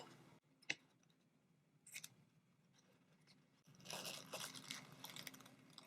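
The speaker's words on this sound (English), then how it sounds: "go ahead and cut your ribbon" Scissors snip through ribbon for a Dollar Tree spring deco mesh wreath, a few sharp separate cuts followed by a denser run of rustling snips close up.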